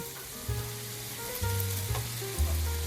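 Half-boiled, cooled chinigura polao rice, about 250 grams, stir-fried with fried rice seasoning mix: a close, steady sizzle with scraping stirs and bursts of louder frying.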